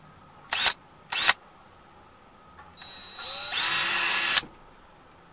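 Two short whirring spurts of a power drill boring into tire rubber, then a longer steady high-pitched drilling run, close and fairly quiet with no talking.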